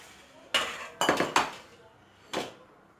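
A bowl and metal strainer are set down and handled for straining chicken yakhni, giving four sharp clinks and knocks, spaced unevenly and close, against a quiet kitchen background.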